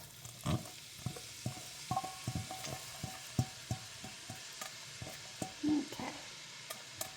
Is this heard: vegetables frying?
yes